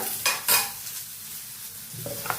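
Coriander seeds fry in a pan while a spoon clinks and scrapes against the metal a few times, over a soft, close sizzle.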